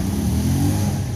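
An old one-cylinder car in Mexico pulls out into traffic, its engine giving a close, steady low rumble that holds constant through the short moment.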